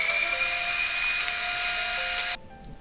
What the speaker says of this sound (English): Exactly now is when someone starts using the drill in the house